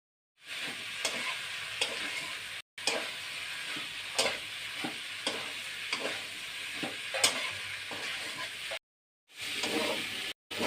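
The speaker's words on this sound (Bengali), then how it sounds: "এখন আমি মশলা দিয়ে কষিয়ে নেব" Potato chunks stir-fried with spices in a pan for a traditional Bengali vegetable curry, with steady close sizzling and frying broken by repeated stirring scrapes and two short silent breaks.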